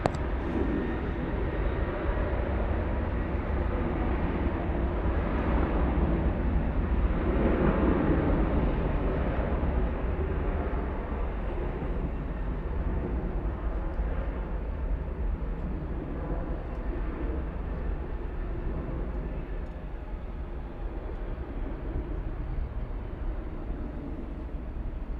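An American Airlines Boeing 737-800 departs Dallas/Fort Worth, its jet engines a loud, steady roar that holds throughout, broad and rumbling with no break.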